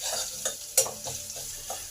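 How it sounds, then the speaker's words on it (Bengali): Garlic paste frying in a pan with cumin and chillies already browned in oil, a soft steady sizzle punctuated by a few sharp scrapes and taps of a spatula stirring, fairly quiet and close. "রসুনটাকে ভালো করে ভেজে নেব।"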